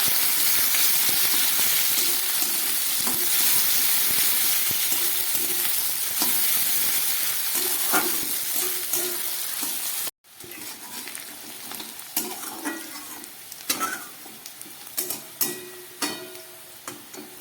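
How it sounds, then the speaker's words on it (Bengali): Potatoes and chopped onion frying together in a pan for a Bengali fish curry, a loud steady sizzle that cuts briefly, then returns softer with repeated clicks and scrapes of stirring. "আলুর সঙ্গে পেঁয়াজটাও একটু ভেজে নেবো"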